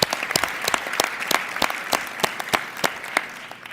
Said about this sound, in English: I would ask that we give those students another round of applause.